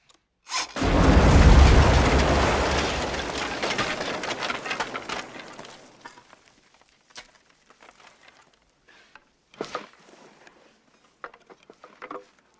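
A deep, loud explosion set off inside an old mine shaft in a film scene rumbles and roars for several seconds, then decays into scattered falling debris and faint clatters in the quiet tunnel.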